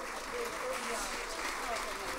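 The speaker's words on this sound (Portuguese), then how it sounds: "é uma salva de palmas para a Casa do Povo da Ponta de Sol" A crowd at a sugarcane fair applauds the Casa do Povo da Ponta do Sol accordion group, a quiet, even wash of clapping that holds steady throughout.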